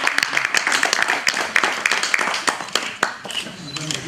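A crowd claps at a university summit: a steady patter of many hands, quite close and loud, with some voices mixed in and the clapping easing slightly toward the end.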